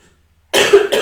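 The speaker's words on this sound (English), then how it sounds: "I feel that a cough is coming up." One sharp, loud cough from a person, arriving suddenly after a moment of near silence and followed by a short second burst.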